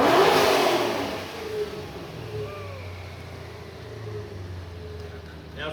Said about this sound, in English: So give it a couple good revs, John.